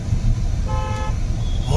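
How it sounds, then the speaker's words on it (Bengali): A car horn gives one short toot amid running engine and road noise, with voices talking over it. "হর্ন দাও, হর্ন।"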